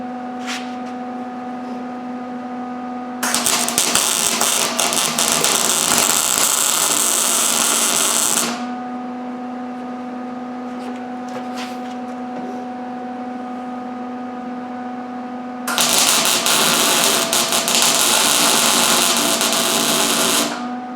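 Tack welds go onto a steel retainer ring for a 20-ton press as two loud, harsh crackling bursts of several seconds each, separated by a pause, over a constant machine hum.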